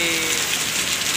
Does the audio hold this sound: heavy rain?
yes